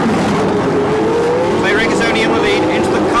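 1976 Formula 1 race cars roar down Linden Avenue on a street circuit, a loud sustained engine blare with high whining notes rising toward the end, under continuous commentary.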